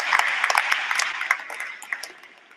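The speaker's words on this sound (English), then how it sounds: "Please give yourself a round of applause for having 96 tournaments." Applause at a tournament opening ceremony, scattered bright claps from a moderate-sized audience that gradually thin and fade over a couple of seconds.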